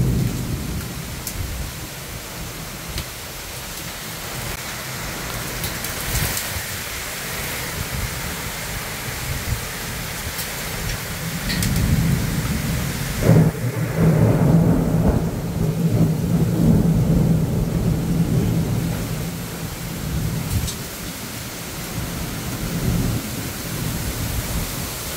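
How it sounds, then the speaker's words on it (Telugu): Heavy rain with hail pounds down during a storm in Gudivada, with thunder rumbling through; a steady loud downpour hiss that swells louder about midway and stays heavy to the end. "గుడివాడ వడగలలో కూడిన భారీ వర్షం."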